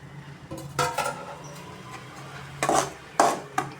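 A spoon scrapes and clinks in a pan while roasted cashews, raisins, pearl millet flour and rice flour are stirred together for laddu, giving a few soft scrapes and then several sharper metallic knocks close by.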